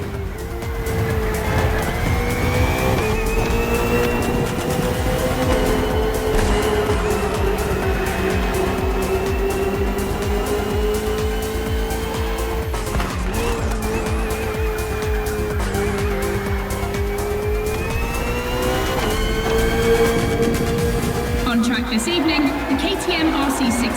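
A KTM RC16 racing motorcycle and a Ferrari 488 GT3 race on a circuit in The Crew Motorfest, engines wailing steadily and loudly with shifting pitch and gear changes, over continuous game sound and some tire noise.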